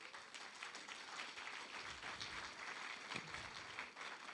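Applause from a church congregation, a steady wash of clapping at moderate distance that holds at even loudness for a few seconds.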